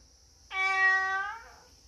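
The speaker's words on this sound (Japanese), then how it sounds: "ニャーと鳴いてますね" A single drawn-out cat meow, fairly close and clear, rising quickly then fading over about a second in a quiet room with a faint high whine in the background.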